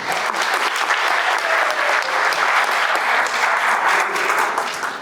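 A seminar audience at a Senac lecture on success claps loudly and steadily for a participant, a dense unbroken round of applause that fills the room without pause.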